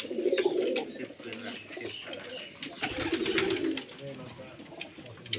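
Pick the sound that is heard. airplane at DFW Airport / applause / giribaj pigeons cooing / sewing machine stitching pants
giribaj pigeons cooing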